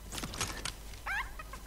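A chicken in a video game gives a short run of clucks, a couple of quick calls followed by a higher, wavering squawk, close and moderately loud over faint background noise.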